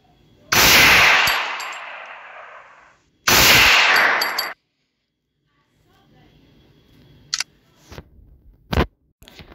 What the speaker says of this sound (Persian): این هم کل 5-7 هستش که هم تو کانتر استرایک 2 یعنی همون CS2 یا CS1 هم اومده